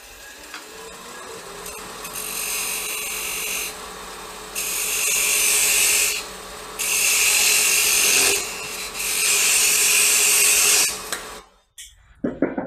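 A lathe-mounted wood turning having its outer ring cut away, with four loud bursts of harsh rasping and scraping separated by pauses over a steady machine hum, ending with a few knocks.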